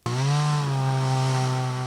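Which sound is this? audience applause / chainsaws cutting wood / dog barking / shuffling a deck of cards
chainsaws cutting wood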